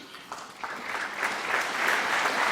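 Applause from the crowd at a professional snooker quarter-final, starting with a few scattered claps and swelling into steady, fairly close clapping that holds to the end, with no one speaking.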